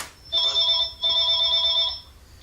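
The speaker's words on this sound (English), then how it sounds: "You gotta pick up the phone, Gary" Telephone ringing during a word game show, a single loud electronic ring tone lasting about a second and a half after a short click, close and clear with no talking over it.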